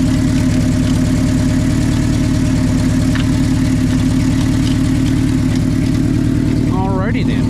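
A car engine idles with a steady low throbbing rumble, loud and close, running evenly throughout with a brief higher whine near the end.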